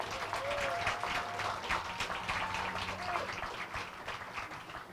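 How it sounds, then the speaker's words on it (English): Guests at an evening Martin Luther King Jr. scholarship reception in a private home applaud the hosts, a burst of many hands clapping that carries on for several seconds and slowly thins, with faint voices beneath. "So let's give them a round of applause."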